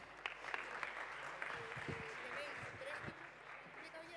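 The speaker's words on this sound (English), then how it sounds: "So please, a round of applause and enjoy the startups," Applause from the audience at a startup conference stage event, a steady moderate wash of clapping in a large hall with a few voices and small noises over it.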